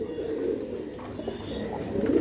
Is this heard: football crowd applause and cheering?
no